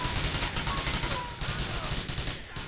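Dense gunfire in Grand Theft Auto IV, rapid overlapping shots crackling nonstop for a few seconds, loud and close with a sustained busy texture.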